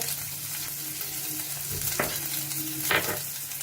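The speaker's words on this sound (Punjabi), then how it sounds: "ਸਾਰੀਆਂ ਚੀਜ਼ਾਂ ਨੂੰ ਅਸੀਂ ਹਾਈ ਫਲੇਮ ਤੇ ਭੁੰਨਾਂਗੇ ਗਾਰਲਿਕ ਬਹੁਤ ਹੀ ਵਧੀਆ ਪੁੱਜ ਗਿਆ" Garlic frying over a high flame for veg chowmein, a continuous hot-oil sizzle with a low hum beneath and two sharp scraping strokes of a spatula against the pan; no talking.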